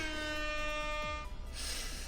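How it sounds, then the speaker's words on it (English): A loud, sustained air horn blares in the Pokemon Academy Life game, a steady harmonic blast that cuts off after about a second and a quarter, followed by a brief noisy tail. "I didn't expect to hear the air horn sound."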